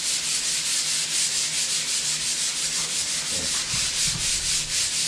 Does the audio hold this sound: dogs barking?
no